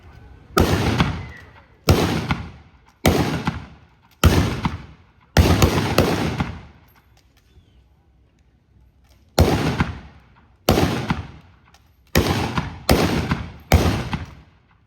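An 1880s US Army firing squad at Fort Mackinac fires rifles by file, producing eleven sharp, loud reports at uneven intervals. Each shot rings out briefly, with a longer pause midway through.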